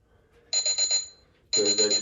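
Workout interval timer alarm sounding in two short bursts of rapid, bright electronic beeps, each lasting about half a second, clear and close with a pause between them.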